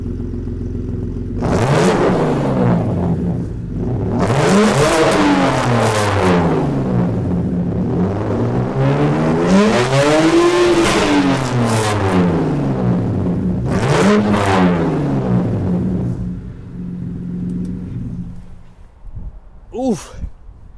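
A BMW engine revs up and down repeatedly in a parking lot, its pitch rising and falling in broad swells, close and loud, before settling into a quieter idle.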